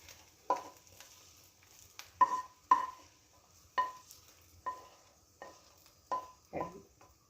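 Prawn biryani mixture with fried cashews being stirred in a pan: quiet, spaced scrapes and clinks of a spoon against metal, about eight distinct strokes over a faint background.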